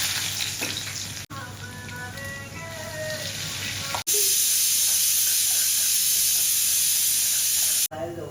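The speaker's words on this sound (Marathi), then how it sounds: "इथे बघा मी तेल गरम करायला ठेवलं होतं आधी मसाला माझा इकडे रेडी झालेला आहे तर आधी मी याच्यामध्ये टाकणार मोहरी कांदा" Mustard seeds and onion hitting hot oil in a pan give a loud, continuous frying sizzle and hiss with bursts of spitting crackle, broken by a few sudden cuts.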